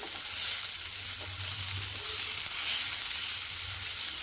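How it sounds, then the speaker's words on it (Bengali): Banana stem (thor) frying in a pan in its own released water, giving a steady, fairly quiet hiss and sizzle that holds evenly throughout, with no talking. "থোড়ের জলেই কিন্তু থোড়টা আস্তে আস্তে ভাজা হয়ে যাচ্ছে। এবার এটাকে একটু উল্টিয়ে পাল্টিয়ে নেব।"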